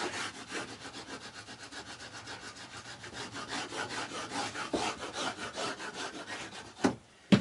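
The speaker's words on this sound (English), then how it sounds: "I'm just going to make sure it's sticking. Rubbing the back of it." Masking tape being rubbed down along the back of a guitar neck during a binding job, heard as steady rhythmic rubbing strokes close up, ending in a couple of sharper handling noises.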